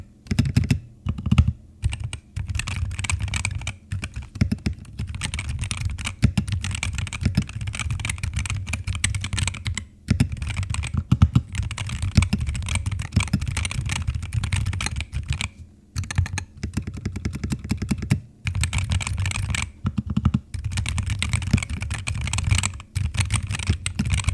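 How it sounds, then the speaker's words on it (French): Rapid, clacky keystrokes on a modded Ranked Supernova S60 mechanical keyboard, continuous close-up typing with brief pauses between bursts. "le rendu sonore du clavier après modification"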